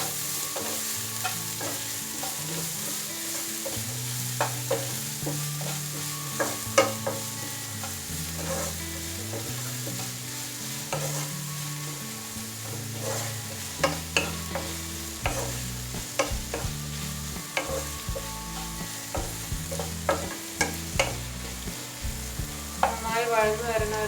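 Onions sauté with salt in a pan for a black-eyed bean curry, giving a steady sizzle. Spoon stirs and scrapes come through again and again, and a low hum runs under the frying.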